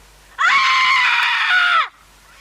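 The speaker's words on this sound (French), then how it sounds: "je reconnais que c'était un beau cri" A long, shrill scream from a horror film rises sharply, holds at a high, piercing pitch for about a second and a half, then drops away into quiet.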